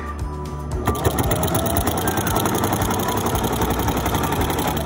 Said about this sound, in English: we're going to sew across the top of this